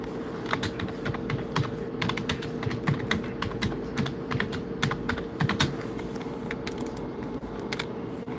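Rapid, irregular keystrokes on a computer keyboard, close and clear, over a low steady hum of a room or live-broadcast setup, with no talking.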